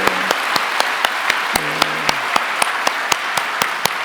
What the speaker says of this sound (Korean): 여러분 모두를 향해서 한번 박수로 한번 격려했으면 좋겠습니다